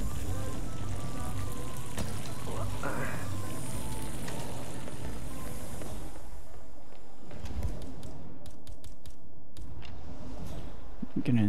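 Steady rushing hiss of a running faucet in the Hitman 3 Marrakesh level, continuous and fairly loud, thinning out toward the end with a few faint clicks and soft noises.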